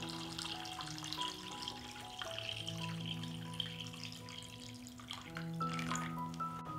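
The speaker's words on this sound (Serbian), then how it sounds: "Sipam vodu u šerpu do visine poklopca." Water poured steadily into a pot holding glass jars on a cloth, filling it up to the lid line for pasteurizing; a continuous, fairly soft splashing flow.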